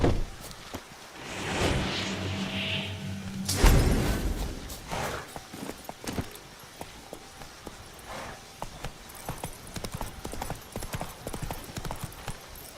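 Hooves of a galloping horse in The Witcher video game, a steady clip-clop rhythm running through most of the stretch with a brief whoosh and rumble early on, no talking.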